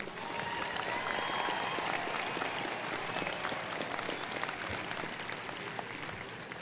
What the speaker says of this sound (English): Let's give these graduates a resounding round of applause.